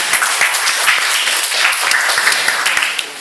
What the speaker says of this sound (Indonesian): Mungkin aplaus buat UIN, ya.